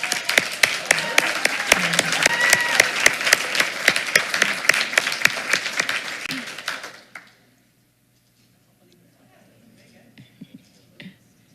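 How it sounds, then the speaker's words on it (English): At a school board meeting, a room of people claps steadily for several seconds, then the applause tapers off into near silence with a few faint sounds. "let's give him one more round of applause"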